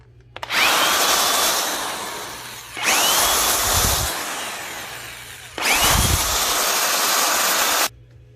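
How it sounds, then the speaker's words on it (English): A power drill spins up three times in long whirring bursts, each lasting a couple of seconds, with a 5-inch buffing wheel rubbing steadily against billiard balls being polished. "It's just a cheap Harbor Freight 5-inch buffing wheel that goes into a drill chuck"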